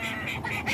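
Ducks give a few short, faint quacks while the birds are put away before a storm, heard over wind and outdoor background noise.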